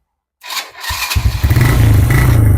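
Honda Revo motorcycle, long unused, starts up: a brief silence, a starter whir, then the engine catches into a loud, steady idle with a rapid low thudding pulse close by.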